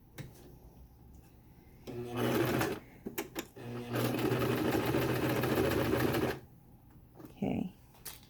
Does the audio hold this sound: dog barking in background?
no